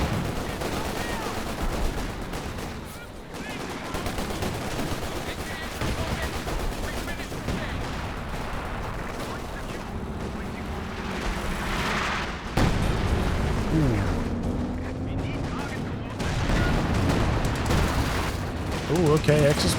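Howitzer artillery fire in the Company of Heroes 2 video game: repeated heavy blasts and rumbling impacts amid steady battlefield din, with a sharper, louder burst partway through.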